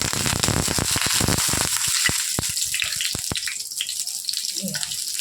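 Dried chillies, garlic and black cumin fry in hot mustard oil, giving a dense, steady sizzle broken by sharp crackles and pops that thin out toward the end.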